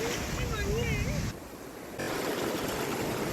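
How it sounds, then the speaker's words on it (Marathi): A sea wave at the Kunkeshwar shore in Devgad, Sindhudurg, rushes back over the sand in a breezy, windy hiss, with a faint whistling tone early on and a short lull in the middle. "प्रचंड वेगाने ही लाट जेव्हा मागे जाते ना तेव्हा पाणी आपल्याला पायाखालची वाळू ओढायला सुरुवात करत आहे"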